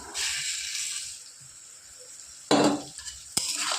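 Gobindobhog rice tipped into hot oil already frying mung dal and potato for khichuri: a steady sizzle, then a sudden louder rush and crackle as the grains land, followed by a brief stirring scrape.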